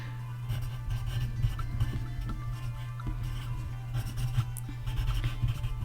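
Pen or pencil writing on paper, a steady soft scratching that runs the whole time, close and quiet over a constant low electrical hum.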